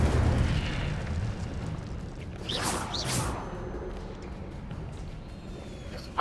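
Incendio fire spell cast in Hogwarts Legacy, a brief fiery whoosh and burst rising over a steady low rumble of game ambience, fairly loud and close, with no talk.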